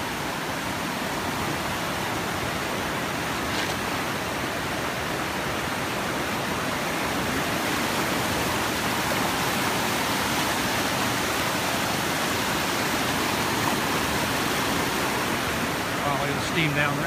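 Constant broadband rush of flowing water from a river near Sloquet Hot Springs, British Columbia, like rapids, steady and fairly loud for the whole stretch, with no clear talk.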